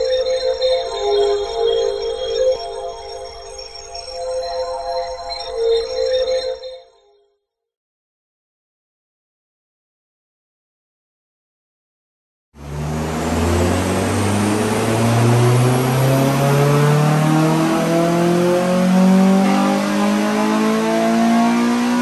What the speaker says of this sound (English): Let's get this one on the dyno, get it strapped, get a stock power run out of it